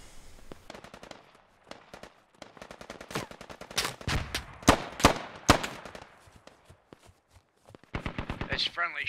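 Rapid bursts of automatic gunfire in the military shooter game Squad, loud sharp volleys and single shots clustered through the middle with a quieter stretch, then another close burst at the end, with voices talking over the action.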